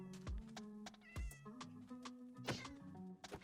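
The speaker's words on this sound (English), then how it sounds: "I could go and kill this cat because it was being pretty loud" Several loud, close cat meows from a Minecraft cat in a desert village, a run of drawn-out, wavering cries with short gaps between them.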